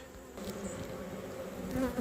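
Dense, steady buzzing of many Buckfast honey bees up close at an open hive with full frames, a continuous droning hum with individual bees rising in pitch now and then.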